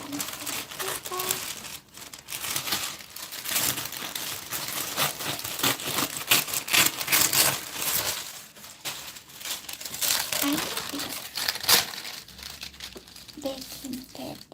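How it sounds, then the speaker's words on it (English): Baking paper is cut and crinkled during a polymer clay session, giving repeated dry crackling and rustling bursts close by, with a person talking intermittently over the handling. "I'm going to cut some paper."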